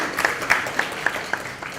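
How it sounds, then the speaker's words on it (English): Audience applause at the close of a university biology talk at IISER Pune, a steady wash of many hands clapping with a few sharper individual claps standing out, moderately loud throughout. "Please have a great round of applause for both of them."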